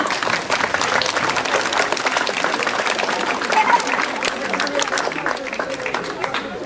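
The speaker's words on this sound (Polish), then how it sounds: "Brawa dla Konora." Steady applause fills a school start-of-year assembly in Poland, an audience of pupils and teachers clapping for a new student named Konor; dense, continuous clapping with some crowd murmur throughout.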